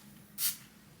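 A brief, fairly loud hiss of hair product sprayed onto clean hair, a single burst of about a fifth of a second over a quiet low room hum.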